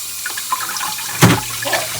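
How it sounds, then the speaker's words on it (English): Warm water splashes and pours over an ice lantern in a sand castle bucket, a close, fairly loud watery gush peaking briefly midway amid softer trickling and dripping, without talking. "I'm going to give it a little bit of warm water on top."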